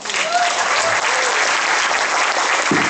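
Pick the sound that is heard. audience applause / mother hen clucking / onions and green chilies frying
audience applause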